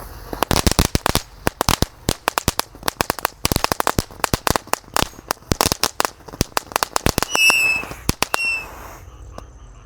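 Four fireworks set off together, including roman candle tanks, fire a dense rapid barrage of sharp pops and crackles, loud and close, with a few whistling shots near the end and a brief gap of quiet as it finishes.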